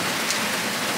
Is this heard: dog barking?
no